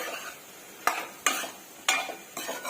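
Beetroot fries in a pan on the stove with a soft steady sizzle, broken by four sharp scraping strokes of a spoon stirring at roughly half-second to one-second intervals, no talk.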